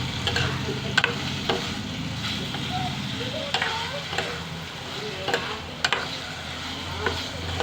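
Drumsticks (moringa pods) fry in a pan with a steady sizzling crackle, punctuated by sharp clicks and scrapes of stirring, with a low background rumble throughout.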